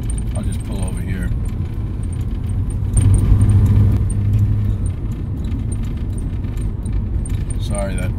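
Something loose on the dashboard of a motorhome rattles and jangles like keys while the engine idles steadily underneath, with a brief louder swell of engine rumble midway; a voice speaks at moments.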